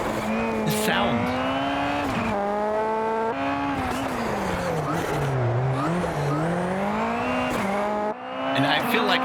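Rallycross race car in Automobilista 2, engine droning and rising through gears with tire squeal over it, loud and continuous throughout with a brief dip near the end.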